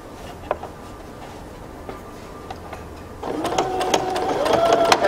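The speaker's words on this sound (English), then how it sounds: "So at this side, I'm going to do the same reinforcing stitch." A sewing machine runs a reinforcing stitch on drawstring pants fabric, starting after a quiet pause and humming steadily and close with rising speed and a faint rhythmic whir, with no talking.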